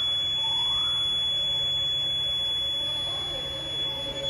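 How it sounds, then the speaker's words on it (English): A Notifier NFS320 fire alarm sounds during a fire drill at a career technical center, a steady buzzing alarm tone droning continuously at moderate level with faint voices underneath. "I'm in the middle of a fire alarm right now"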